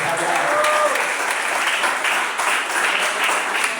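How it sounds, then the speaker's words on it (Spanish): A congregation claps during a Spanish-language evangelical sermon, steady close applause with some voices mixed in throughout. "Denle ese aplauso al Señor si siente que nos está hablando."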